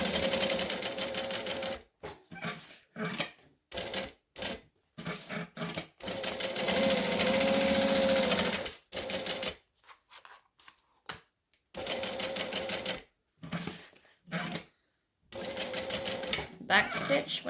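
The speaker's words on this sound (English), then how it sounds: "So now I can stitch around the box." A sewing machine stitches around a box seam on a fabric wallet, running in bursts of steady rapid clatter separated by pauses, close up, with someone talking between and over the runs.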